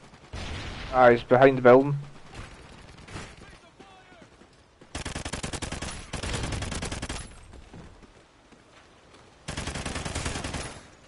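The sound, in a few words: enemy gunfire shooting at the players, from a video game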